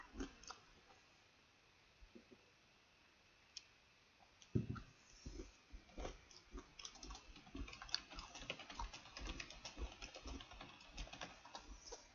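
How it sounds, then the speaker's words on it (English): Quiet keyboard typing, sparse at first and then a busy run of soft clicking keystrokes, close by with no voices. "I can hear you typing on stream."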